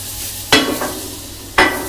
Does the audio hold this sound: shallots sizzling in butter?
yes